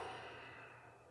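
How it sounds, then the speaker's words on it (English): Steady breathing during a standing decompression exercise, a long soft airy exhale or sigh heard close and alone with no talk. "Breathing."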